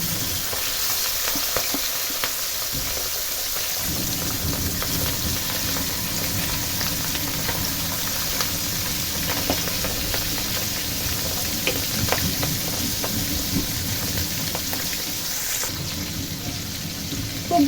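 Hilsa fish frying in a pan for a sour tomato dish, with a steady, dense sizzle of hot oil that carries through the whole stretch. Faint stirring and utensil clicks sit under the frying, and nobody speaks.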